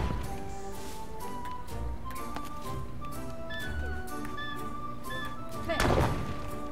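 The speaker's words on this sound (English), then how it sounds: "Okay, so now we can bomb all this junk." Bombs blowing up junk in the Yooka-Laylee and the Impossible Lair video game, with several dull thumps scattered over game music and one louder burst near the end.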